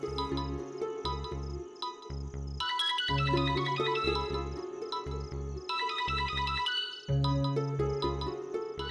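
A phone rings with a looping electronic melody over a thumping beat, loud and close, the tune repeating in several phrases.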